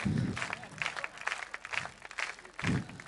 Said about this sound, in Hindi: जितेंद्र यादव जी भी ताली बजा